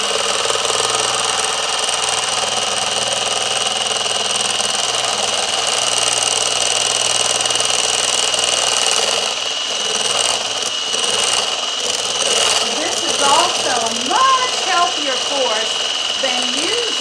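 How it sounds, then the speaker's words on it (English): A 4-in-1 kitchen appliance whips homemade topping of cream, powdered sugar and vanilla in a beaker, a steady motor whir running throughout, with someone talking over it in the second half. "I'm going to use this beaker along with the 4-in-1 to make our whipped topping"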